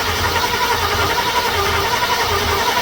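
A small-block C30 engine turning over on the starter during a compression test, giving a steady loud mechanical churn with a low rhythmic pulse throughout, close by and with no voices.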